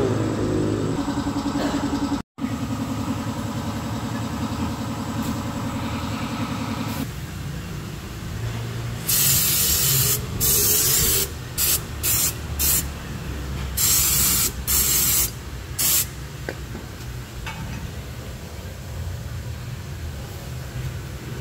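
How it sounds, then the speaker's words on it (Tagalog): A long, steady spray of brake cleaner on a car's brakes hisses loudly, then comes in several short bursts with brief pauses between them. "spray po tayo ng brake cleaner."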